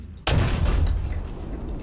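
A tank gun fires once in a video game, a loud, sudden boom with a heavy low rumble that rolls on and decays slowly after the blast.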